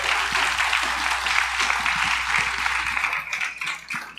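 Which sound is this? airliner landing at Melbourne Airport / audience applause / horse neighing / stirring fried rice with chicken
audience applause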